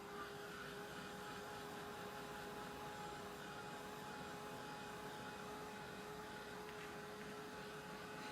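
A heat tool drying and heat setting a chalk transfer blows a steady, even whirring hum that stays at a constant level throughout, with no talking.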